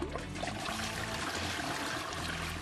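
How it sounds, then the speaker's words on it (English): An H&H Stealth ultra-high efficiency 0.8-gallon single-flush toilet flushing away 600 grams of miso paste, a steady rushing pour of water close by for a few seconds, fairly quiet, with no voices. "Now that flush was quiet."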